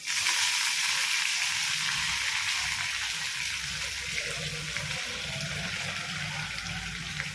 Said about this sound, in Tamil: வெங்காயம் கருவேப்பிலை புதினாவும் கொ கொத்தமல்லி வச்சுருக்கேன் எல்லாமே போட்டு ஒரே சேமாக நம்ம வதக்கிப்போம்